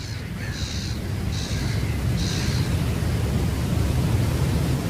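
Fishing birds calling at a dam, three short harsh caws rising over a loud continuous roar of rushing water through the gates.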